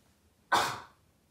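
A single sharp sneeze bursts out after a moment of quiet, close and loud, then trails off quickly.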